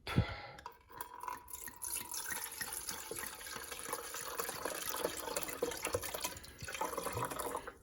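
Water pours and splashes into a coffee machine reservoir from close by, a continuous trickling fill with small drips and clinks at a low level.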